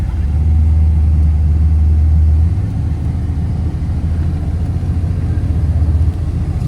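Engine of a Chevy OBS dually pickup truck pulling hard while driving, a loud steady low drone that drops slightly in pitch partway through and keeps rumbling on.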